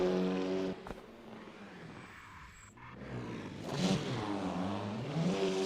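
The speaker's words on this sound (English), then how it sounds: "Just showing off his drifting skills in a TCR." A Cupra Leon TCR race car drifts around the Macau street circuit in a racing video game, its engine droning with revving harmonic sweeps that rise and fall steadily at close range, with no talk.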